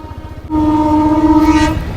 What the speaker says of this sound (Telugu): ట్రైన్ పోతుంది.